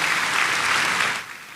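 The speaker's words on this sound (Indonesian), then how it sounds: "Yang setuju boleh berikan tepuk tangan yang paling meriah buat Tuhan" A church congregation bursts into loud, dense applause during a New Year sermon, a continuous wash of many hands that tapers off slightly near the end.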